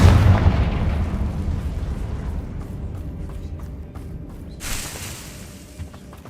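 A Confringo spell explosion in the Hogwarts Legacy video game, opening with a loud deep blast that rumbles and slowly fades, followed by debris crackling and a faint later impact.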